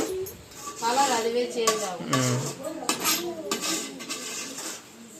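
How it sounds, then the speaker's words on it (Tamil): A sweet dish stirred in a pot, with a spoon scraping and clinking against the metal in repeated strokes, close and fairly loud throughout, with faint voices in the background. "ரொம்ப நல்லா கிண்டி விட்டுருங்க"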